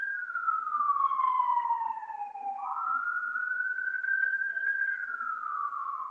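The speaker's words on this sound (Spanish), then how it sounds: "Yo escucho una ambulancia" A wailing emergency siren, taken as an ambulance's, sweeps slowly down and back up in pitch, steady and fairly loud throughout with no other sounds on top.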